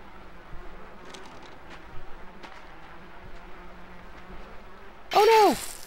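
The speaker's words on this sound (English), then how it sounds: "I don't think I want the bees!" Bees swarm and buzz in the game Limbo, a low steady hum running under faint background sounds, then a sudden loud burst near the end as a voice cries out over it.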